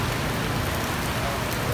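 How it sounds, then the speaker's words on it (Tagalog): Steady rain pours down outdoors in a market setting, a dense even hiss with low patter that fills the whole moment without pause; no voices are heard. "Umuulan naman."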